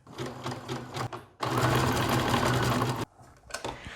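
A sewing machine stitches along the raw edge of a neckline facing, a loud steady whirring run in the middle flanked by shorter stop-start bursts, close up with no talking.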